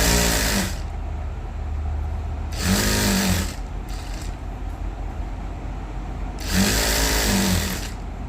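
Sewing machine stitching piping onto the lower waist edge of a lined, drop-neck maggam-work blouse, running in three loud bursts separated by quieter pauses with brief lighter whirs between them.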